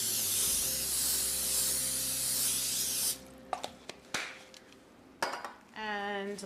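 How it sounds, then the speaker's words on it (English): Cooking spray hisses in a long continuous burst onto a warm nonstick pan, followed by light clinks and taps of utensils and a short sizzle, all fairly close. "I'm gonna spray it generously with a cooking spray."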